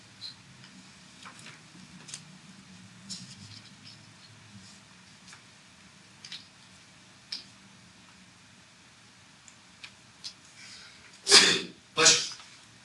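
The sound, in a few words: sneeze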